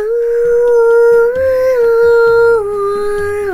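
A beatboxer imitates a plucked guzheng with his voice, producing a clear, sustained sliding tone that bends in pitch over rhythmic low clicks and pulses, close and loud.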